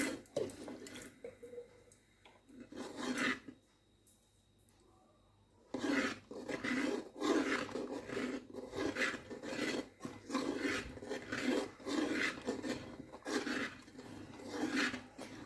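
Grated khoya kheer and rice flour are stirred constantly in a pan, a rhythmic scraping and rubbing with repeated strokes. A short quiet pause breaks it before the steady scraping resumes.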